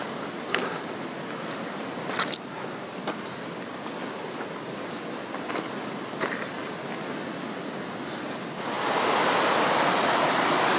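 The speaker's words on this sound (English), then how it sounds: "Come around this bend and all of a sudden we're at the creek crossing" A mountain creek rushes near a snowy hiking trail in Desolation Wilderness, a steady broadband roar of flowing water with occasional footstep clicks, swelling louder near the end as the crossing comes closer.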